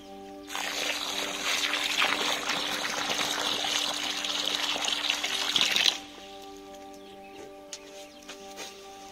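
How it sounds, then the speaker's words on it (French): Water is poured into a planting hole in a vegetable garden, a steady splashing gush lasting about five seconds before it stops abruptly, leaving quiet outdoor ambience. "j'ai rempli le trou d'eau"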